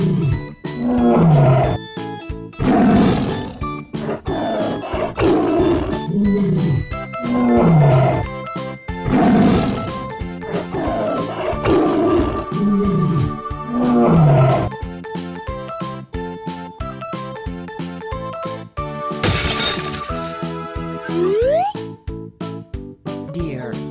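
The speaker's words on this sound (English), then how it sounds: "Tiger." A tiger roars repeatedly in a children's toy-truck animal delivery scene, loud and up close, with jingling tones and a musical backing around the roars.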